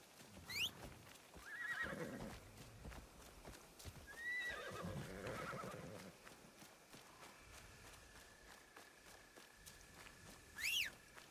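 A horse in the Assassin's Creed Shadows video game whinnies several times over steady clip-clopping hoofbeats, with a louder neigh near the end.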